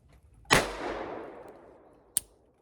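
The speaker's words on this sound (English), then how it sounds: "I'm going to shoot the Roscoe first, and we're going to go double action for the first 5." A Rossi (Roscoe) revolver with a 2-inch barrel fires a single loud, close double-action shot outdoors, and the blast rings out and decays. A sharp click follows about a second and a half later.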